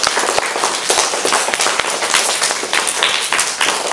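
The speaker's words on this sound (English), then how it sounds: "really big loud round of applause for all of our students for the week?" Loud, close clapping in a school hall during a celebration assembly, a busy stream of sharp individual claps with strong accented hits throughout, no speech over it.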